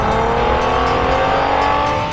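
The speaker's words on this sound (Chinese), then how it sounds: "一旦跑起来的时候，这声浪" A sports car wearing a Maserati skin in the mobile game Peacekeeper Elite roars loud and close with a sustained, steady engine note and no talk.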